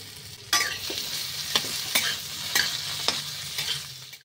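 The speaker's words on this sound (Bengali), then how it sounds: "এবার আমি আলুগুলো ভেজে নিচ্ছি" Small diced potatoes fry in hot oil with a steady sizzle, broken by several sharp scraping stirs of a spatula in the pan, with no voices.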